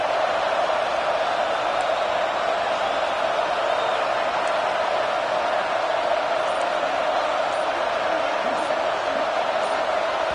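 A stadium crowd at a football game roars steadily and loudly throughout, a dense sustained wall of noise with no clear breaks, as the offense is forced into a false start.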